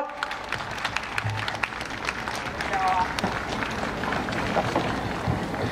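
An outdoor crowd applauds after a yosakoi dance performance at a Kyoto cherry blossom festival, a steady dense wash of clapping with a loud voice speaking over it throughout.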